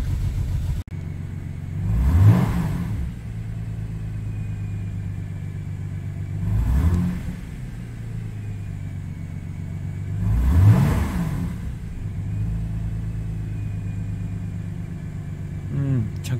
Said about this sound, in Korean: 엔진 부조가 너무 심하네요.